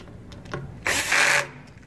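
A screw being tightened on a Sondors ebike, heard as a short close mechanical whirr lasting about half a second, with faint ticks before it.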